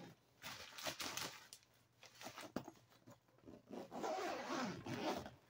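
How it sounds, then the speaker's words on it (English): A double-zipper suitcase being zipped shut while packing, several quick rasping zipper pulls close by, in bursts with brief pauses between them and a longer, steadier zip near the end. "we're going to zip this side up and see how that works"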